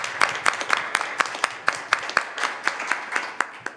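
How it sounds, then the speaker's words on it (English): Sparse, evenly paced clapping from a small audience at a legislative town-hall meeting honoring a veteran, distinct individual claps in a quiet room. "Can we give him a round of applause?"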